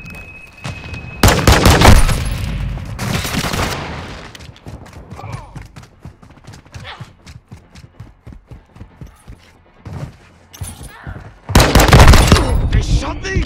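Gunfire in a multiplayer shooter video game, a mix of loud automatic bursts and scattered shots that come in heavy clusters, close and punchy, with game voices and player talk between them.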